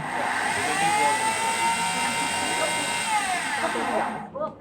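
A kitchen blender purees a basil sauce made without added water, a loud steady whirring motor running continuously before it winds down and stops.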